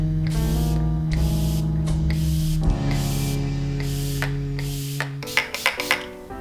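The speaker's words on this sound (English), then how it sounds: "Add a little setting spray to the face." Setting spray mists onto a face during a drag makeup look, with several short hissing bursts over steady background music and a few sharp clicks at the end.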